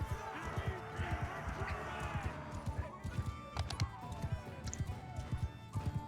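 Cavalry horses gallop in the medieval battle game Mount & Blade II: Bannerlord, a dense run of rhythmic hoof thuds with a brief whinny over a busy battle din, under some talk.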